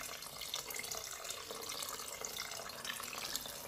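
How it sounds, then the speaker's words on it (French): Water pours steadily from a tap into a cooking pot of drained lentils, a constant soft splashing rush with no breaks, close but fairly quiet. "je vais rajouter une quantité d'eau pour faire cuire mes lentilles"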